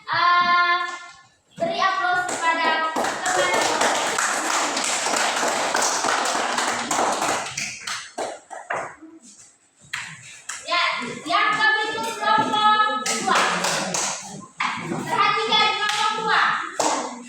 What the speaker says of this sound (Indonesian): silakan beri aplaus kepada teman-teman